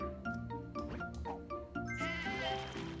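Cartoonish sheep bleats from the puzzle video game Divide By Sheep repeat in quick succession over a steady game music bed, several overlapping calls at close range.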